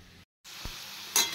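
Potatoes and taro (gaanth kochu) fry in a pan with a steady hiss, cut by a short silent gap, then a soft thump and a brighter sizzling burst near the end.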